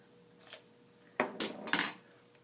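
Tape being cut with scissors: a quiet snip, then a quick burst of two or three crisp snipping and crinkling sounds close by, with no speech.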